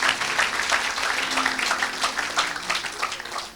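A church congregation claps hands in praise, a dense, lively patter of many hands that continues steadily for a few seconds and then fades out at the end.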